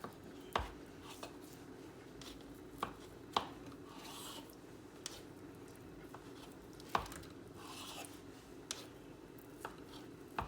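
A knife slicing rolled cinnamon roll dough into thick rounds, producing quiet, irregular taps of the blade hitting the board spaced a second or two apart over a faint background hum.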